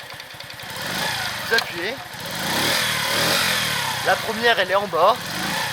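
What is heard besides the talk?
Masai Greystone motorcycle engine running after kick start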